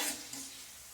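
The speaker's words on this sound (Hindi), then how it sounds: "इन सब चीज़ों को हम मीडियम आंच पे ही फ्राई कर रहे हैं।" Raisins and other nylon poha namkeen ingredients fry in oil over a medium flame, giving a brief, dense, even sizzle with no talk.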